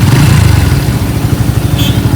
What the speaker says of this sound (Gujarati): બાઈક ચલાવી જવા દો.